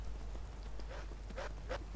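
Rain falls in the video game Skyrim as a steady, faint patter, with a few soft thumps rising briefly above it.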